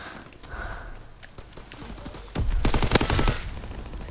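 Rapid machine gun fire in the World War II shooter Call of Duty WW2, with scattered shots giving way to a loud, fast sustained burst lasting about a second.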